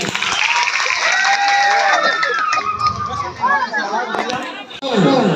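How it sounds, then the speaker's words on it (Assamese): Crowd clapping for Hiramoni Baishya at a temple event in Assam, a burst of applause and cheering mixed with chatter and a prominent voice, loud and close, dropping briefly before picking up again. "সকলো ৰাইজকে এজনী হাত চাপৰি দিবলৈ মই বিশেষভাৱে অনুৰোধ জনাইছোঁ"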